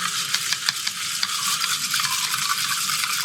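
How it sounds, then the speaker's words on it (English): Spoon stirring a coffee liqueur drink in a glass, a quiet continuous swishing with small repeated clinks, close and soft, no talking. "now I want to stir it"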